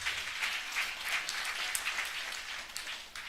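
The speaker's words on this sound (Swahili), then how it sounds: "Makofi mazuri tena zaidi hapo." Steady crowd applause at a church gathering, a dense wash of many hands clapping together, sustained throughout at moderate distance.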